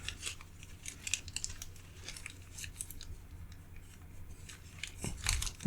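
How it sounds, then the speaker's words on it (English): Paper being folded for an origami phoenix: soft, close crinkles and faint creasing scrapes that ebb and flow, ending in a brief louder rustle. "I'm just going to take this outer edge, fold it in."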